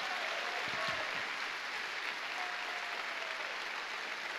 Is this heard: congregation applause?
yes